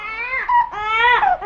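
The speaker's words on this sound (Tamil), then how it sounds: "என்னது குழந்தையின் அழுகுரல் சத்தம்?" An infant wails in two long, loud, rising-and-falling cries that follow each other closely, clear and alone.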